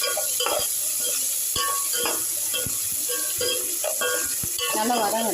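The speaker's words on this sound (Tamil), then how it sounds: "தக்காளி பழம் போட்டுக்கலாம். நல்லா வதக்கிடலாம்." Tomatoes sautéing in a pan with salt, a loud steady sizzle with frequent sharp clinks and scrapes of a spoon stirring against the pan, heard up close with some faint voice in the background.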